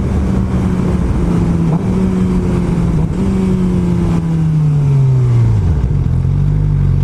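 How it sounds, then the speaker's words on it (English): A 2006-14 Suzuki GSX-R 600 sport bike running a GP shift pattern downshifts while riding: loud, close engine drone with pitch dropping in steps across gear changes, wind noise steady underneath. "Downshift time."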